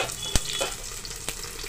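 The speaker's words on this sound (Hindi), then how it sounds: "तो इसमें प्याज डाल देती हूँ मैं।" Onions dropped into hot refined oil sizzle and crackle in a pan, with a couple of sharp pops over a soft continuous frying hiss, fairly close.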